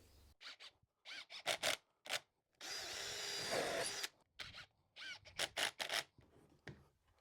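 A power drill drives screws into the boards of a simple DIY bench in short, quiet whirring bursts. A longer burst runs in the middle, and small handling clicks and knocks fall between them.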